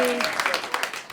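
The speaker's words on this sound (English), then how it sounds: "Let's give another round of applause for everyone who came before me." Scattered audience clapping at a stand-up comedy show, brief and moderately loud, with a voice faintly audible at the start.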